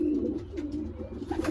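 A young racing pigeon coos in a loft, low throaty rolling coos repeating steadily and close, with faint rustling around it.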